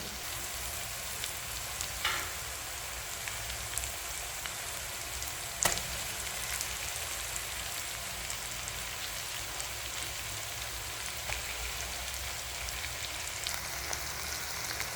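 Potatoes tumble into onions frying in a pan, setting off a steady, close sizzle with faint stirring scrapes and one sharp clink, carrying on alone without talk.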